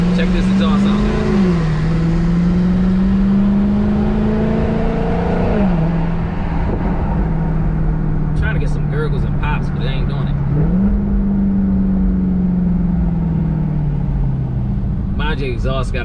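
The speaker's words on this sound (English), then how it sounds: "So check this exhaust out, guys." Dodge Charger Hellcat with a Corsa Extreme catback exhaust revving loudly, the deep exhaust note rising and falling in several long swells, with brief talk in the background.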